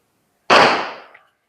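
A single sharp Glock 19 pistol shot fired at a target at a 10-meter range, loud and close, with a quick decaying ring-out after the crack.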